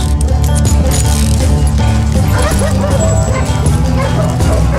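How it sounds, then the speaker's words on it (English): Wild dogs bark and yip in the Call of Juarez Gunslinger video game, repeated barks coming in bursts over a loud, dense game soundtrack with a steady low rumble throughout. "Wild dogs, tooth and nail. They were coming at me from all directions."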